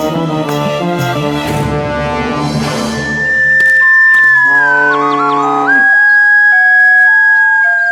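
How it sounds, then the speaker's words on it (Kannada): A flute plays a melodic line of sustained, clear notes with bends and slides, loud and close, over a layered musical backing. "ಇನ್ನು ಜೋರಾಗಿ ಓದಿ ಕೊಳಲನ್ನ"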